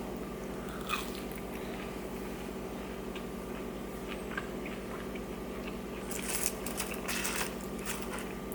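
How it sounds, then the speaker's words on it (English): Crispy, crunchy Burger King fries being eaten close up, with a few sharp crunching bites early on and a denser burst of chewing crunches near the end over a quiet background hum. "I love Burger King fries. They're always so, I don't know, crispy, crunchy compared to other fast food places."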